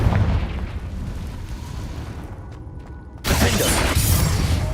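A Confringo fire spell blasts in Hogwarts Legacy, a sudden loud burst cutting through steady rumbling game noise partway through, with the roar staying full and dense afterward.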